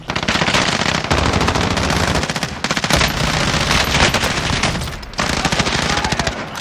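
Rapid automatic gunfire from Call of Duty Warzone, loud sustained bursts of machine-gun fire with brief pauses between volleys.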